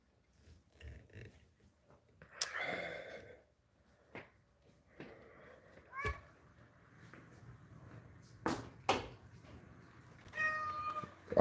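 A cat eating gives several short, fairly faint meows scattered among soft chewing and small household knocks, with quiet background noise between the calls.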